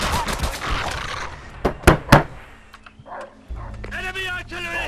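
A dog barking amid gunfire in the World War II shooter Call of Duty: World at War, with loud sharp shots and bursts, someone talking over the game, and tonal barks near the end.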